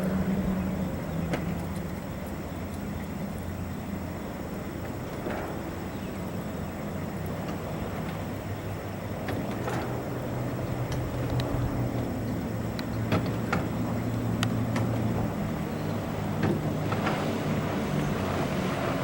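A 1995 27-foot Grady-White Sailfish fishing boat's engine drones steadily as the hull cruises over water at about 34 mph, with wind buffeting the microphone and occasional splashes and knocks throughout.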